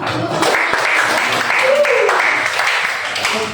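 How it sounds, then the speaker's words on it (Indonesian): Students in an Indonesian classroom guidance lesson clap together, a steady dense patter of hands held for several seconds, with some voices mixed in among the clapping. "Tepuk tangan semuanya."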